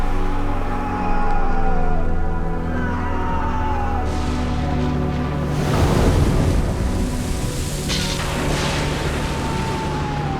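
Stormy wind and heavy sea waves, a loud continuous roar of gusting wind with surf surges and crashing swells building around the middle.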